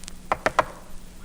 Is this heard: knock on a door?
yes